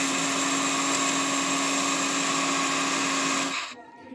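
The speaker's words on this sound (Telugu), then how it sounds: "ఇప్పుడు మరి ఇంకోసారి వేసేసుకుందాం మిక్సీ మనము" Kitchen mixer grinder blending spice powder, a loud steady whirring motor hum that runs continuously and then cuts off abruptly near the end, leaving quiet.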